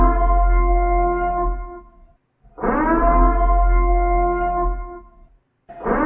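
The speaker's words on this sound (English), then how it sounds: "Let me get the purge sirens in here for you, my guy." A purge-style air-raid siren wails in long, loud, steady tones, two full sustained blasts separated by a short gap, then a third beginning, with no talk over it.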